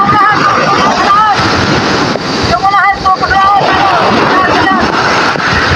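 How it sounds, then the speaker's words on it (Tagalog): Heavy surf of large ocean waves crashes and churns close by, mixed with strong wind buffeting the microphone, while voices shout over the roaring water. "Ayan na, ang laki ng alon."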